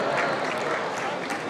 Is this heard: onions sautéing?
no